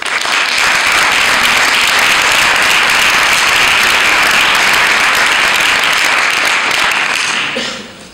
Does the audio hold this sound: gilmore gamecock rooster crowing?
no